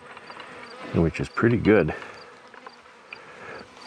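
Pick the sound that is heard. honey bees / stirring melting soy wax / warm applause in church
honey bees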